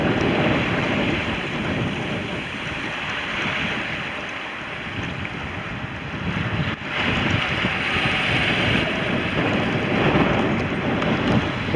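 Wind gusts roar hard and steady across a sailing yacht under a small genoa in the Sognefjord, Norway, with buffeting on the microphone and surging rushes throughout.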